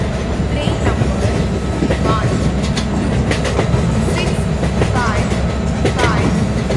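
A train rolls along in the Indian Train Simulator game on iPad, giving a loud, continuous rumble with rhythmic clickety-clack from the wheels and rails.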